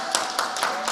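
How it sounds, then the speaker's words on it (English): A conference crowd claps in a round of applause for the Medical Simulation Center, a dense patter of hands with a few louder bursts, fairly close and steady throughout. "we really want to give a resounding round of applause to the Medical Simulation Center"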